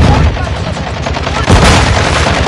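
A stun grenade going off in a first-person shooter video game, a loud blast followed by a dense, sustained roar of noise that fills the whole clip alongside heavy gunfire.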